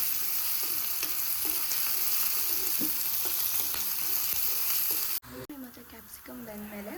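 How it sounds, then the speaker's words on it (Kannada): Chopped garlic and capsicum sizzle and hiss steadily in hot oil while being stirred, a dense crackling frying sound that fills the first five seconds before dropping away to softer pan noises and a faint voice. "ಸ್ವಲ್ಪ ಬೆಳ್ಳುಳ್ಳಿ, ಮತ್ತು ಕ್ಯಾಪ್ಸಿಕಮ್ ಇಷ್ಟು ಬೇಯೋ ತನಕ ಚೆನ್ನಾಗಿ ಕೈ ಆಡ್ಕೊಳ್ಳೋಣ."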